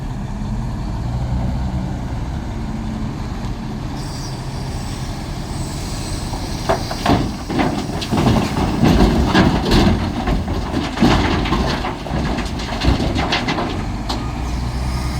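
A Mack truck cold-starting on a freezing morning in the 20s, a steady low rumble that grows rougher and busier midway with clattering knocks, close and loud, no talking.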